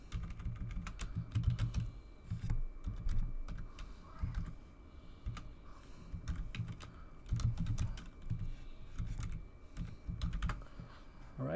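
Steady typing of a password on a computer keyboard, with quick irregular key clicks in bursts and short pauses throughout, close and moderately loud with no talking.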